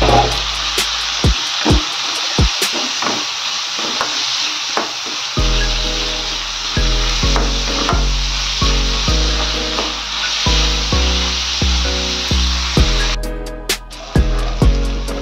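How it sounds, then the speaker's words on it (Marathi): Finely chopped onion sizzles in hot oil until browned for a Marathi-style fish curry, with a steady frying hiss broken by repeated clacks and knocks of stirring against the pan. "त्याच्यात आपण बारीक चॉप केलेला कांदा टाकायचा आणि थोडा ब्राऊन होईपर्यंत तो भाजून घ्यायचा"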